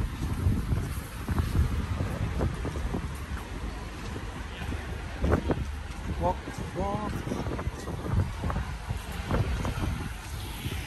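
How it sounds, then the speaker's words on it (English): Wind buffets a microphone on a street in Clapham, London on a Saturday afternoon, a constant rough rumbling roar with gusts, while a person talks over it and faint street sounds pass. "It's a little bit windy now."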